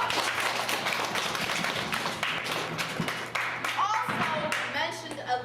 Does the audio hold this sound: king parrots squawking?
no